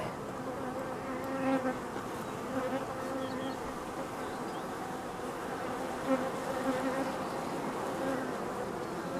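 Honeybees drone continuously around their hive after a second swarm, a dense, even buzz of many insects close by with no voices.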